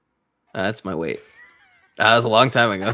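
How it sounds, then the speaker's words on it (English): A pet cat meows from a video played back on a screen, a short call heard between bursts of close conversation as people talk over and around it. "That's my cat."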